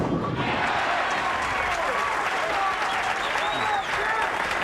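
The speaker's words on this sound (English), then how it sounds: "Walter Ray is obviously the crowd favorite here. You can hear them." A bowling tournament crowd breaks into loud, sustained applause and cheering for a championship match player, a dense wash of clapping filling the whole moment without a break.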